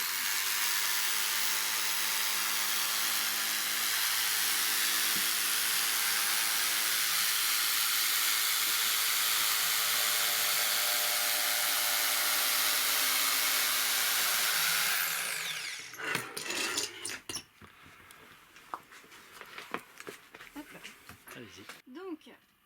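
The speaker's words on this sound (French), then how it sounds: "je vais venir la découper avec une scie à mousse" An electric foam saw slices through upholstery foam in an upholstery and furnishing workshop, a loud continuous buzzing hiss for about fifteen seconds that then cuts off, leaving scattered handling clatter.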